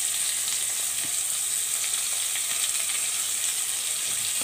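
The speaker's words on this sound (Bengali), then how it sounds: "এটাকে এবার আমি লাল করে ভেজে নেব।" A medium onion, sliced very thin, fries in a pan, giving a constant, even, loud sizzle with no talking.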